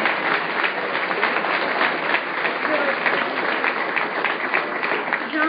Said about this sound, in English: How about another round of applause for this film,